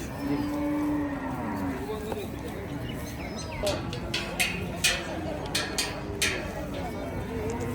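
A bull lowing at the Kalampur cattle market during a cold spell, one drawn-out low moo near the start, with crowd chatter and market bustle continuing around it.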